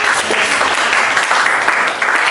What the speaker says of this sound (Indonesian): tepuk tangan sekali lagi buat kelompok